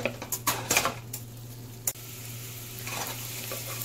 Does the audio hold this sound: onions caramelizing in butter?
yes